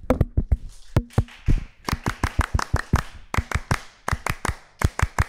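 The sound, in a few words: Pramuka scout clap, clapping twice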